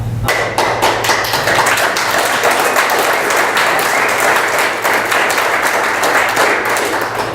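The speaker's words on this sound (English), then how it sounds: "We very, very rarely get applauded, and thank you for those that did" An audience at a town board meeting applauds steadily for several seconds, a dense wash of many hands clapping without a pause.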